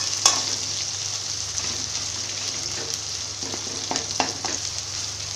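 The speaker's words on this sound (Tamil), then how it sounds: "எண்ணெயில் வெங்காயம் வந்து நல்லா வணங்கட்டும், இஞ்சி பூண்டு பேஸ்ட்டும் போட்டோம்," Onions frying in oil with ginger-garlic paste for a meal maker (soya chunk) fry: a continuous close sizzle with a few sharp stirring clicks near the end, no talking.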